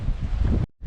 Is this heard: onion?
no